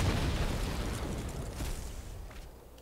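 A fiery burst effect from the Magma Spray spell in Magic Arena, a loud rumbling blast that fades gradually over about three seconds.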